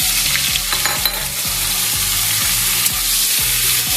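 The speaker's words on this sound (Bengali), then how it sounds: "কড়াইয়ে তেল আছে, এই তেলের মধ্যে আমি কপিগুলো ভেজে নেব।" Cauliflower florets fry in hot oil in a wok, a loud, steady sizzle with repeated soft scraping strokes of stirring at a regular beat, close up and with no voices.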